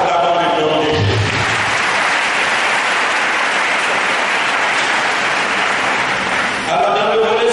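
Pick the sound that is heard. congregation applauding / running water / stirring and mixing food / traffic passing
congregation applauding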